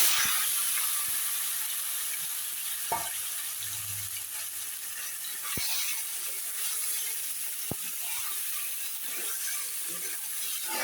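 Meat going into hot oil tempered with cumin, a broad steady sizzling hiss that fills the clip, broken by a few sharp clicks and knocks from a utensil against the pan, no voices.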